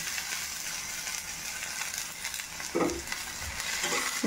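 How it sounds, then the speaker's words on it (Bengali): Spring onion, capsicum and onion frying in a pan for chilli paneer, a close sizzle with stirring scrapes and a few louder spatula knocks near the end, no talking. "এটা আমি ভালো করে একটু ফ্রাই করে নেব"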